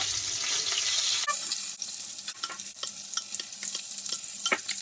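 Tofu frying in a pan, a steady bright sizzle with scattered crackles and pops, close up, with a scraping stir near the start and no voices.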